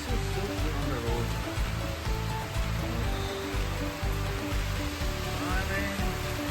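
Steady rain falling on a road while cycling in Bangalore, a dense, continuous hiss of drops heard close with low rumbling underneath and a voice speaking faintly.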